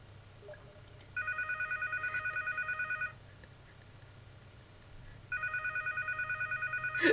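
Phone call ringback tone, two long purring rings about two seconds each separated by a pause, fairly faint and steady over a low background hum.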